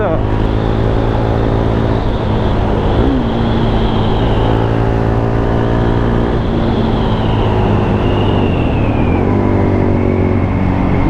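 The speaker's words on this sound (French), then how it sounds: "on va tester l'accélération" A 2017 KTM Duke R 690 A2 motorcycle accelerates hard from the rider's seat, its loud single-cylinder engine climbing in pitch through several gear changes, with constant wind rush throughout.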